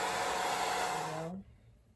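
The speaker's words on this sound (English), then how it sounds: "you're gonna take the blow dryer and put your edges back" A blow dryer roars with a steady high whoosh, then winds down and switches off, leaving near silence.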